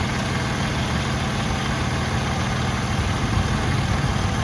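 A Ford Freestar engine idles steadily, heard close with a low, even rumble and a faint pump whir during power steering pump work. The sound is continuous and unchanging, with no talking.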